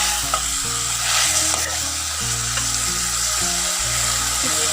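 Okra stir-fried in an onion masala, village-style home cooking: a dense, steady close sizzle with rhythmic scraping of a spoon through the pan, no talking.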